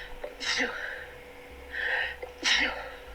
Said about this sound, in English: I feel like I'm going to sneeze now that I'm talking about it